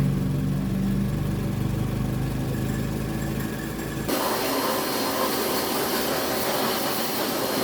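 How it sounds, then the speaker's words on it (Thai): A Toyota Camry ACV engine running normally in a repair shop: a steady mid-pitched idle hum that shifts abruptly partway through to a brighter, hissier wash of noise, with no one talking. "เสียงเครื่องยนต์ก็ทำงานปกตินะคะ"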